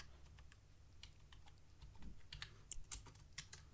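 Soft, steady keystrokes on a computer keyboard while writing HTML in a code editor, quiet and close, with a few sharper clicks near the end.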